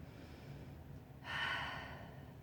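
During a yoga stretch, a single soft, airy breath swells up about halfway through and fades slowly, quiet and close against faint room hum.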